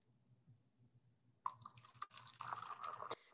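Hot water poured from a small container into a backpacking couscous pouch, a brief splashing trickle that starts midway and runs for under two seconds, close and fairly quiet over a low room hum.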